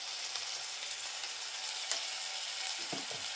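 Onion browning in a pan as ginger-garlic paste and homemade Malvani masala go in, for a Malvani fish curry. A steady, faint sizzle hiss runs throughout, with a few soft stirring clicks near the end.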